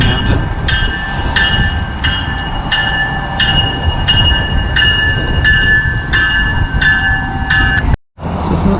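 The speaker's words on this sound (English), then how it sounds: "Oh, it's the southbound train going to Camden." A southbound New Jersey River Line train to Camden passes close by, loud and steady, with a regular rhythmic clatter of wheels over rail joints before cutting off abruptly near the end.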